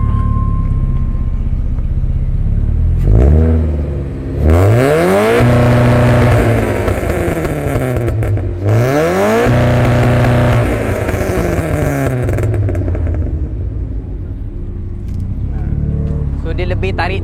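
Car engine revved repeatedly, several sharp rising-and-falling sweeps in quick succession with brief drops between, loud and close, then settling back to a rough idle.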